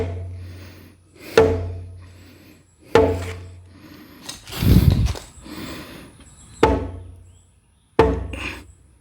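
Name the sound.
hammering on wood during horse barn build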